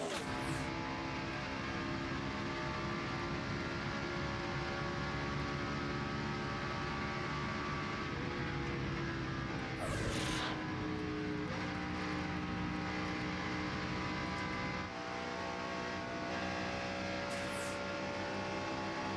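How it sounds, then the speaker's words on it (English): 2007 NASCAR Busch Series race cars at full throttle during the Stater Brothers 300 in California, a loud, continuous engine roar lasting about nineteen seconds, with brief sharper surges as cars pass close by. "Let's go full throttle and hear these Busch Series cars at full speed."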